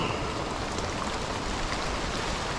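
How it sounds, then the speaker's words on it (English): Steady, dense rain falls in a Belizean jungle on a hill trail in Cockscomb Basin Wildlife Sanctuary, a constant even hiss with no breaks and no voices. "Hopefully the rain doesn't cause any landslides here"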